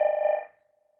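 A CaptionCall captioning phone's ringer, set below half volume, sounds a steady electronic ring that dies away after about half a second, leaving a faint lingering tone.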